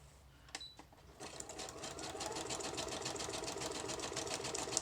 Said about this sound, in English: this time I'm going to sew all the way around the edge.